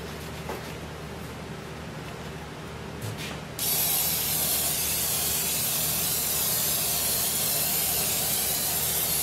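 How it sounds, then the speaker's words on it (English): Sealer is sprayed over dirt on a pheasant taxidermy habitat base, a brief faint hiss followed by a steady, loud, close continuous spray lasting several seconds. "I'm going to try and spray this over top to affix it"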